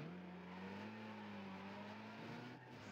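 BMW car engine in Need for Speed drones with a steady, slightly rising tone, a continuous revving note that sounds rough as if malfunctioning, heard alone.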